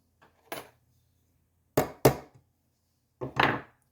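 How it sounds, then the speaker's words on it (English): A light hammer tap on a center punch marking a drill spot on a ring, heard as a few sharp metallic clicks and taps, close and distinct, separated by silence, with a quick double strike in the middle. "I'm going to position it right where I want to drill here and give it a light tap."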